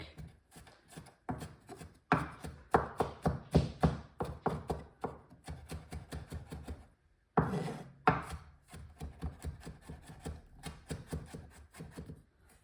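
A knife chops garlic rapidly on a board in bursts of quick, sharp taps, close and distinct, with a brief pause midway before the chopping resumes.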